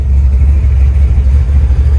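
A Chevrolet S-10 street truck with a carburetor stumble runs loud and close, a steady low engine rumble with slight pulsing and no voices.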